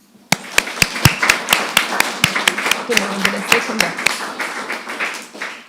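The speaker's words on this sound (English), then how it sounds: "I'm going to move that we give her a round of applause." Council members at an ordinary council meeting clap for Councillor Sadler, a small group with sharp, distinct claps in a loose rhythm, close and moderately loud, while a voice speaks briefly underneath.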